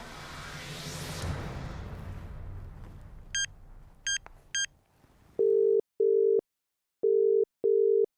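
A phone call meets a busy signal: a whoosh fades into a few short high beeps, then a loud, evenly spaced busy tone pulses four times.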